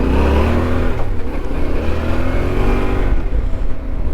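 A Yamaha Ténéré 700 Extreme Edition motorcycle engine revs loudly and steadily while riding off-road, its pitch rising and falling close up with no talk.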